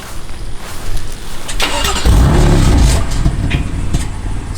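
A BMW F80 M3 engine cranks and fires into a loud, rough idle, its deep rumble swelling near the middle and then settling into a steady drone, with no voices.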